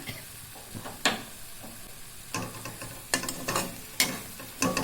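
Raw onion being stirred into ivy gourd chutney in a pan with the gas turned off, giving scraping spoon strokes in bursts at a moderate, close level, with no talk.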